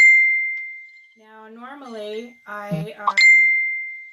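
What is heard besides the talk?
phone notification chime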